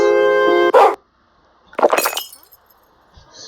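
A sharp electronic tone cuts off into a single bark, then after a pause another bark with a crashing, glassy burst, all with a synthetic game-like quality, from the video game Piggy.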